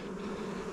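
Honeybees buzzing at an open, newly established hive, a brief, steady, close droning hum with no pauses.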